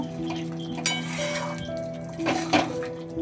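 Egg posto being stirred with two green chillies in a pan, giving soft scraping and clinking of a utensil against the pan, with a sharper metallic clink near the start and another late on, no voices.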